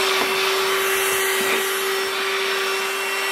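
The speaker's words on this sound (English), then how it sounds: "I'm actually going to vacuum Palmer's little stairs that he uses to get into our bed" A vacuum cleaner runs steadily and loudly while cleaning small pet stairs covered in hair and dirt, a constant whine with no voices over it.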